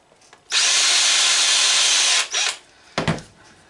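A power drill bores a small hole through a panel while a primer alarm and round counter is assembled for a Loadmaster reloading press. It whines loudly and steadily for about two seconds, then gives two short bursts, with no talking.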